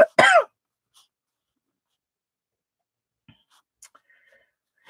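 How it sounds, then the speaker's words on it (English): A person coughs once, sharp and close, at the start, followed by near silence broken by a few faint small clicks and rustles. "You got sympathetic asthma coughing"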